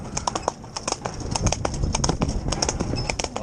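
Horse cantering during a confidence-retraining ride, with a rapid, rolling rhythm of clip-clopping hoofbeats close by over a steady background rustle.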